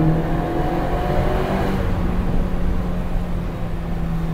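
Alpine A110R sports car accelerating hard inside a tunnel, its engine a loud, steady, reverberant roar that holds strong and close throughout.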